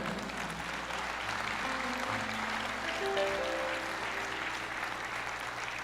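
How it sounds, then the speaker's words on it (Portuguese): A church congregation applauds in a steady, dense wash of clapping that carries on throughout, fairly distant in a large room. "aplauda o Senhor"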